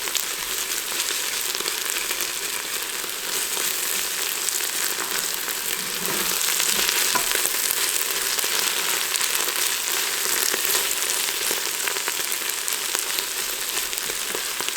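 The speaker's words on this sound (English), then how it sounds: "And I'll let that garlic cook a little bit." Garlic frying in a pot among onions for French onion soup, a loud, dense, continuous sizzle with fine crackle throughout, no talk.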